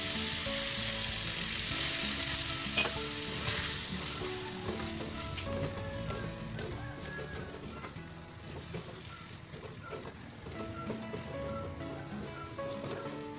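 Chicken livers fry in a pan after a splash of water is added, a steady, close hiss and crackle of sizzling oil that runs without a break, with no voices.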